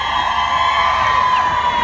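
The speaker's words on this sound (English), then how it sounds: "You're singing, you're clapping, you're all smiling." A large crowd sings along and cheers at an outdoor evening concert at Wild Safari Nights, Yorkshire Wildlife Park in Doncaster, producing a loud, continuous blend of voices with a sustained melodic line throughout.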